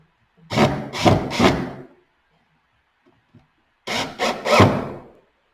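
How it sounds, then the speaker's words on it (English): A screw is driven into a wooden pet feeding station in two bursts of grinding, rasping turns, each made of about three pulses, close up with a quiet gap between them. "And then you put in this top screw"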